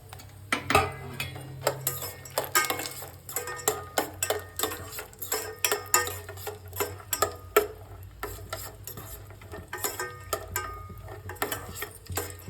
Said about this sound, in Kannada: ಮೊದಲು ತುಪ್ಪ ಹಾಕಿ ದ್ರಾಕ್ಷಿ, ಗೋಡಂಬಿ, ವಾಲ್ನಟ್ಟು, ಬಾದಾಮಿ ಬೀಜ ಇಷ್ಟನ್ನು ಫ್ರೈ ಮಾಡ್ಕೊಳ್ಳಿ